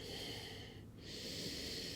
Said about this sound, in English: So a couple breaths here, inhale and exhale.